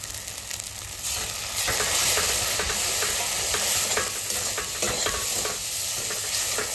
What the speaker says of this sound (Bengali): মশলাটা সুন্দর করে কষাবো, তারপরে জল দিয়ে দেবো।